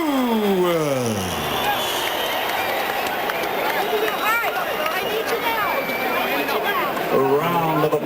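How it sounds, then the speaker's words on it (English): Dense, sustained crowd noise fills a boxing arena after a heavyweight title fight, with applause and cheering blending into a steady roar, while an amplified announcer's voice runs over it. "A round of applause, ladies and gentlemen, for the challenger from Brooklyn, New York"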